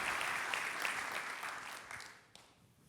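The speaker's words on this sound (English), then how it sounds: "Let's give them a big round of applause for building this amazing project and building." An audience at a civic event claps for a development team, a fairly distant, full round of applause that fades gradually over a few seconds.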